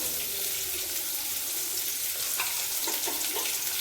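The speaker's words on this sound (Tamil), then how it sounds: "கருவேப்பிலை கொத்து ரெண்டு போட்டுக்குவோம் ரெண்டு பச்சை மிளகா இது நல்லா ஃப்ரை ஆகட்டும்" Curry leaves and green chillies frying in hot oil with a pinch of fennel powder, giving a dense, constant close sizzle with a few faint clinks of stirring toward the end and no voices.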